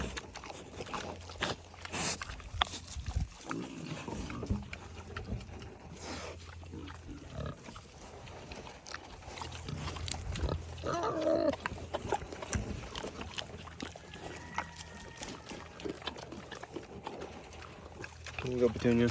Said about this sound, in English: Amy, you bad pig.